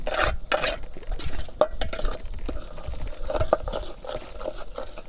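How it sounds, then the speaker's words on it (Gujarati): Spices temper in hot oil in a pan in a village kitchen. A utensil stirs and scrapes against the pan in uneven clatters over a soft, intermittent sizzle. "વઘાર હવે પાકવામાં આવી ગયો છે"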